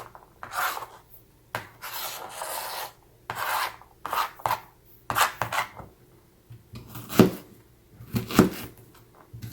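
A D2 steel bushcraft knife with a Scandi grind slices repeatedly through material, giving a series of close, rasping cutting strokes with short pauses between them and no talk.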